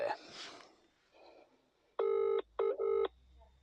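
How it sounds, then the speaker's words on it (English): Touch-tone telephone dialing to place a call: a few bright beeping tones in quick succession, the first longer and the next two short, following faint murmured talk and rustling. "I thought I'd put in a phone call and see what he knows"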